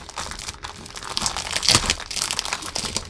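Tape being pulled and peeled off a tightly taped-up parcel, steady crinkling and tearing rustle with a louder rip near the middle, close and continuous, no talking.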